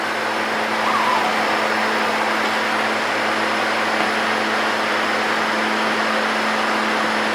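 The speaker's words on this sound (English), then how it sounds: "Set up a fan blowing out the window to get the smoke out of here." Steady whirring fan blowing air and smoke out a window beside a laser engraver, a constant broadband hum with a low tonal drone running unchanged throughout, no voices.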